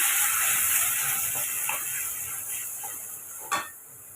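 Ground onion paste sautéing in oil with fennel seeds for a chicken dish: a close, bright hiss of frying with light scraping stirs, and a sharper clatter near the end before the sizzle drops.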